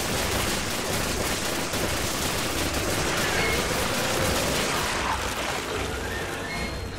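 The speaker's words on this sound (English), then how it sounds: "I like the machine gun better." Sustained machine gun fire in the Resident Evil 5 video game, a dense, continuous rattle of rapid shots that stays loud and unbroken for several seconds.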